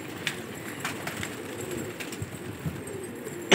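Gola pigeons coo softly on a Karachi rooftop loft, low repeated throaty calls over a steady background hum, with a few brief sharp noises and a louder thump at the end.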